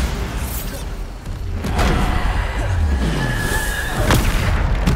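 The Bombarda blast spell being cast in Hogwarts Legacy during a combat trial: a heavy whooshing boom swells partway through, followed by sharp magical cracks and rumbling impacts, with a voice speaking over the battle noise.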